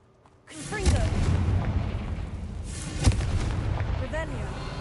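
Confringo fire spell detonating in the Hogwarts Legacy video game, two heavy booming blasts about two seconds apart, each followed by crackling debris and rumble.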